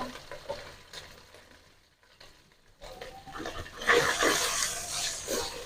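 Onions go into a pan for chicken samosa filling. A quiet stretch gives way to a rising sizzle of frying, loud and close, with stirring and scraping.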